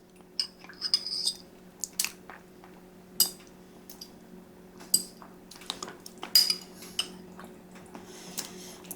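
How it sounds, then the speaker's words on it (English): A spoon clinks against a glass jar while scooping fire roasted red peppers, giving sparse, faint metallic taps and clicks over a low steady hum. "I'm going to add some of these fire roasted red peppers. Just a few, not too many."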